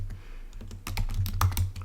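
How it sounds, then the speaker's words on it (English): Keys on a computer keyboard clatter in quick irregular bursts while someone writes code, sparse at first then a denser run of taps, with a low steady hum underneath. "Wow, typing is sloppy today."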